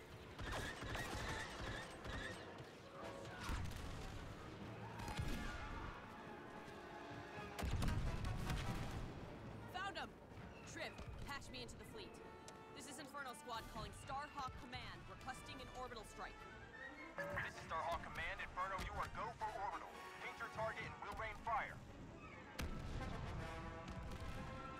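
Blaster and gunfire from the video game Star Wars Battlefront II crackle in scattered bursts amid heavy booms, clanking mechanisms and a busy battle soundscape, fairly quiet overall, with voices talking over the combat.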